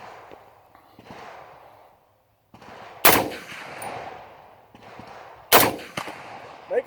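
Tank gunfire in an M1 tanker video game, two sharp loud booming shots about two and a half seconds apart, each trailing into rumbling decay over quieter background noise.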